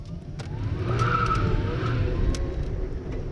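A 1997 GM EV1 electric car spins its tires, producing a sustained, close, loud tire squeal and skid that peaks near the middle and holds steady to the end, with no voices.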